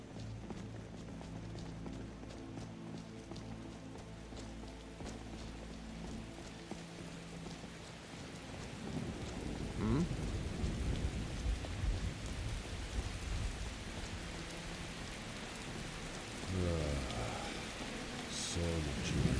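Game rain falls steadily through a storm in a heavily modded Skyrim, with low rumbles of thunder building midway. The downpour hisses over everything, and faint clopping sounds come and go.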